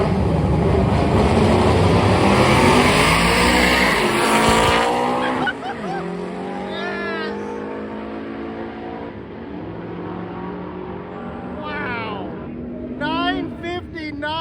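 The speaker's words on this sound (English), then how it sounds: "we have a Volkswagen Bug over here, convertible. It's running for mid-9s. This thing is insane." A convertible Volkswagen Bug runs a mid-9-second drag pass at a 2023 drag week. A loud, close engine roar fills the first five seconds, then fades under a voice talking.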